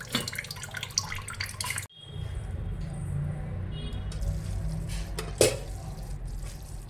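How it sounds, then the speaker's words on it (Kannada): Hot water drains off cooked Singapore noodles, a soft splashing trickle that shifts after a short pause into steadier flowing water, with one brief louder splash near the end. "ನೀರೆಲ್ಲ ಹೋಗಲಿ."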